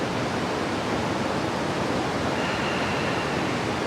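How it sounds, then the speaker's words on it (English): A cold river flows nearby in a steady, broadband rush of water that stays even and loud throughout, with no voices over it. "Listening to the sound of the river in the background."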